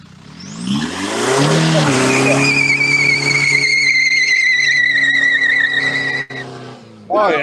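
A car doing a burnout with loud, sustained tire squeal that rises and holds in long shrill tones over a revving engine, close and continuous, cutting out briefly near the end before the engine roars again.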